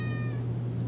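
A cat meows once, close and clear, its tonal cry with rising harmonics lasting about a third of a second before fading into steady low room hum.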